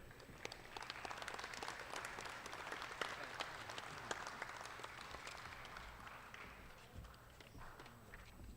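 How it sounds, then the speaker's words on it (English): An audience at the Kentucky State Fair 2024 open dairy cattle supreme show applauding the staff, a faint, far-off, steady wash of clapping that lasts the whole stretch. "if you would give all of our staff that works the Dairy Show a big round of applause"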